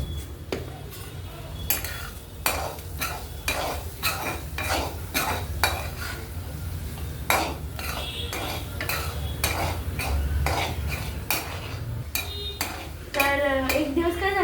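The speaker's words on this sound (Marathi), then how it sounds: "आता हे तिखट आणि हळद टाकलं थोडंसं परतून घ्यायचं जरा" A spatula stirs and sautés chili powder and turmeric in a pan, giving steady repeated scraping strokes over a low, continuous sizzle, close and fairly loud with no talking.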